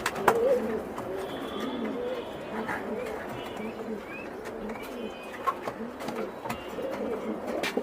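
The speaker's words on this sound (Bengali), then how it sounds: "এটা কিং কবুতর বন্ধুরা।" King pigeons cooing softly in repeated low murmurs close by, with occasional faint chirps and light clicks over a quiet indoor background.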